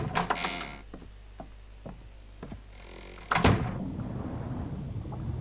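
A door operating in the ARK video game, with a series of mechanical clicks and knocks followed by a heavy thunk and a rumbling slide that trails off into low ambient noise.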